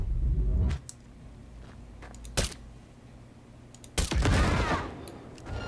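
Gunshots ring out in the video game Cyberpunk 2077: a few sharp, loud cracks, the biggest coming as a heavy blast near the end, over a low rumbling background.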